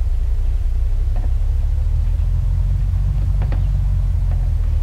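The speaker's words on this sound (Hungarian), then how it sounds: "mert zajongani fog az autó, meg ilyenek." In the video game Unturned, a car engine's steady low rumble drones throughout, loud and constant, with a few faint higher clicks and thumps scattered over it.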